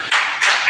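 A church congregation at a worship service claps together, a dense burst of hand claps in two quick swells, close and loud.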